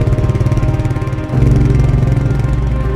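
A Royal Enfield motorcycle engine runs close and loud with a steady, thumping mechanical pulse, growing slightly fuller and deeper partway through, with no voices heard.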